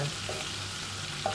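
Garlic and ginger frying in a pan, a soft, steady sizzle with a faint hiss and a small pop near the end, heard alone.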